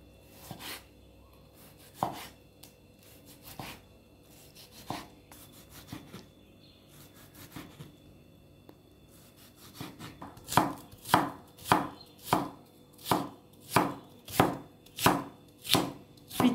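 A knife chops stale bread and tomatoes on a cutting board for köfte, first with scattered soft cuts, then a fast, even run of loud, sharp chops close by.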